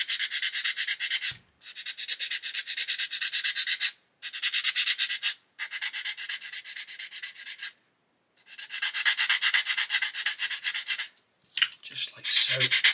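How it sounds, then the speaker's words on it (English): Sandpaper rubs on a 1/32 scale plastic Lancaster nose part in quick, steady back-and-forth strokes, close and fairly loud, broken by several short pauses and ending with a few light handling taps. "So what we can do now is just sand this away."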